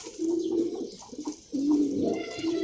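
Highflyer pigeons at a large pigeon farm in Dhaka coo repeatedly in low, rolling bursts, several close birds calling over one another with brief pauses between phrases.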